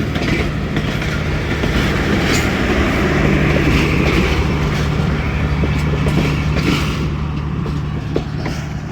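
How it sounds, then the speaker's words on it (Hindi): The 40 Down Jaffar Express at platform 2 of Attock City Junction gives a loud, steady rumble close by, continuous throughout without pauses. "ये जी प्लेटफार्म नंबर 2 पे खड़ी है 40 डाउन जाफ़र एक्सप्रेस।"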